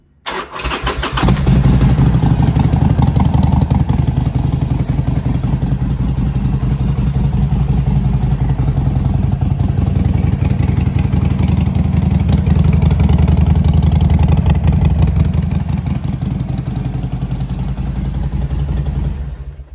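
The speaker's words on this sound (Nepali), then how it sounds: "सो यो हो Harley डेभिडसनको engine Harley Davidson bike." A Harley-Davidson motorcycle fitted with an Eagle exhaust cranks and fires up, then settles into a loud, steady, deep rumbling idle that carries on for many seconds, close to the bike.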